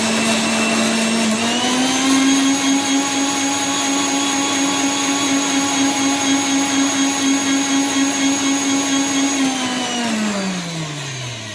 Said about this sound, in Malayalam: മിക്സിയിലിട്ട് അരയ്ക്കാം